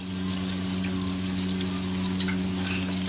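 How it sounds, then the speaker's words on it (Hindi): Chopped onions fry in hot oil for chicken biryani with a steady, dense, close sizzle. It holds even and loud throughout, with a low background hum and no talking. "इसके बाद हम इसमें ऐड करेंगे प्याज"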